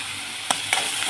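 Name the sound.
frying coriander leaves in pan for masala paddu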